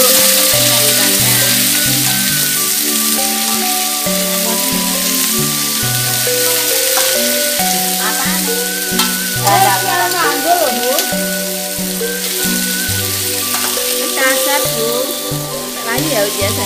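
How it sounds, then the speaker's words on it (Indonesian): Vegetables and garlic sizzle and fry steadily in a pan, a continuous crackling hiss running under louder background music with melodic notes throughout. "Bawang goreng ya Uja, bawang putih digrinding dulu sayurannya"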